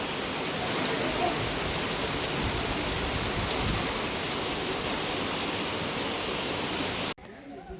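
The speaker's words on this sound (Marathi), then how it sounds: "पाऊस येतोय" Steady rain falls in a dense, even hiss that cuts off abruptly near the end, leaving quieter background noise.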